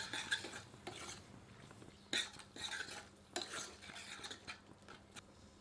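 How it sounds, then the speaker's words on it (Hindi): Tomatoes with ground masala and salt stirred and roasted in a pan over medium heat for a chicken curry, giving soft, fairly faint scraping of a spoon against the pan with a few sharper clinks and low sizzling underneath. "अब सबको मिलाकर मध्यम आंच पर 2 से 3 मिनट भूनते हैं।"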